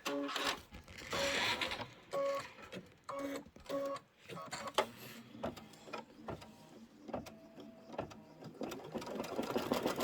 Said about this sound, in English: It's going to stitch one side, and then it's going to go up the other side.